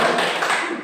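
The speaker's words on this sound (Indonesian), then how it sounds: "kita beri tepuk salut dulu ya" A classroom of students performs a rhythmic 'tepuk salut' clapping cheer in an Indonesian religious studies lesson, a short burst of many hands clapping together close by, with some voices mixed in.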